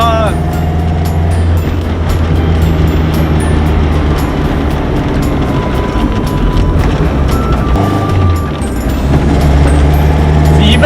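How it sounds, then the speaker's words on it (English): A Toyota AE86 fitted with a 4AG 20V racing engine runs steadily, its loud, close engine drone heard from inside the car, with a voice heard now and then. "Even the engine, the sound of the engine sounds a lot different than before already."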